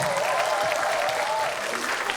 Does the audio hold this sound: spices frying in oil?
no